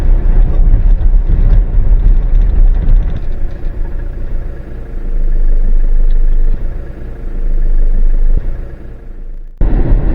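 A car drives through the Namibian desert, a loud steady engine and road rumble heard from inside that rises and falls slightly before briefly cutting out near the end.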